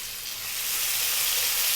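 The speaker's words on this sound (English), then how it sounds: "let's get our onion and drop that in" Chopped onion drops into plenty of hot oil for a chickpea curry, and a bright, steady sizzle swells up and holds at full strength, close and without voices.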